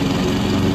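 A lawn mower engine drones steadily with a low, even rumble, heard faintly at some remove as if played back from a device.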